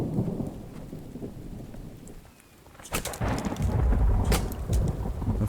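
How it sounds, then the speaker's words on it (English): Thunder rolls and cracks over steady rain in The Infected survival game, with a quieter lull before loud rumbling bursts return and persist through the end. "The friggin' thunderstorms sound so good in this game."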